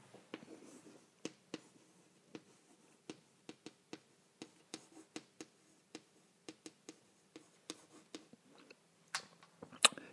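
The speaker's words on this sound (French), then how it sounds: "Je vais vous écrire, c'est plus simple." Chalk taps and strokes on a board as someone writes, producing a quick series of light, crisp ticks in an otherwise quiet room.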